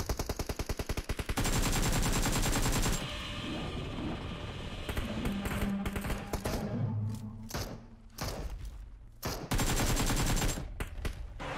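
Rapid rifle fire in Fortnite rattles out in loud bursts at the start and again near the end, with sharp shot cracks and clatter scattered through the quieter middle.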